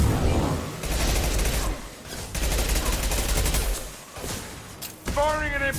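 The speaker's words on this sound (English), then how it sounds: "Firing an impact shot! Headed your way." Sustained bursts of rapid gunfire rattle through a Mass Effect multiplayer battle, loud and dense, pausing briefly before resuming, with a player's voice breaking in near the end.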